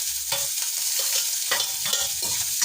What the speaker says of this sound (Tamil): வெங்காயம் பச்சை மிளகா வந்து வதப்பட்டுருச்சு, நல்லா வதங்கிடுச்சு